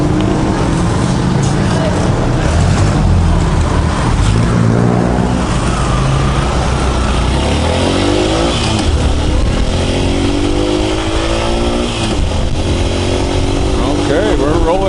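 A motorcycle engine on a Philippine road starts, revs and pulls away, then drones steadily with shifting pitch as it rides through traffic, loud and close with someone talking over it.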